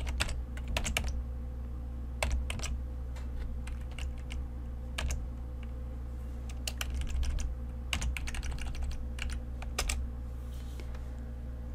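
Typing on a computer keyboard while setting up an Excel VBA UserForm list box: scattered bursts of close, crisp key clicks with short pauses between them over a faint steady background hum, no voices.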